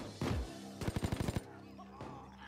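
Enemy gunfire in the Payday 2 heist game, a rapid burst of about eight automatic shots after an initial heavy impact, moderately loud and fairly close, with no talk over it.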